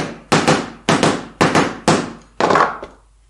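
Hammer blows tapping parts of a solar lamp into place, five sharp knocks at steady intervals, close and loud with a short ring after each, no talk.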